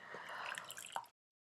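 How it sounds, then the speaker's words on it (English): Water drips and squishes as a cloth is dipped into a bowl of water during a facial skincare routine. The sound is short, soft and close, with a few small wet drips at the end before it goes quiet. "I'm going to take a cloth, dip it in this water to remove the"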